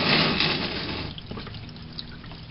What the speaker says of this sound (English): So there's all the old oil draining out.